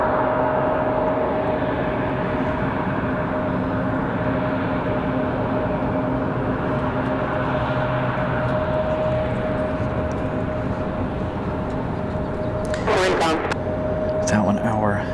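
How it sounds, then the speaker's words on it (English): A Frontier Airbus A320 arriving at Raleigh-Durham airport from Philadelphia makes a loud, steady jet drone with a sustained whine running through it, and a sharper burst of noise comes near the end. "Frontier 1517 from Philadelphia. 53 minutes of flight time for the A320."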